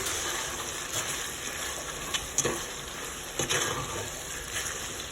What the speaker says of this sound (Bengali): যত সময় পর্যন্ত পেঁয়াজটা ভালো করে মরছে না তত সময় আমি রান্না করছি এটা